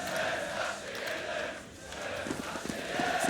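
Fans cheering at an ESL One Katowice 2015 esports quarterfinal, a broad distant crowd roar that swells and dips with scattered claps and chants toward the end.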